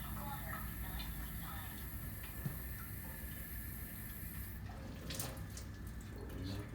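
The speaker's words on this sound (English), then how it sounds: "So the water runs continuously and then pass through the machine." Tap water running continuously through a Kangen water ionizer machine, a steady trickling flow with faint voices speaking in the background.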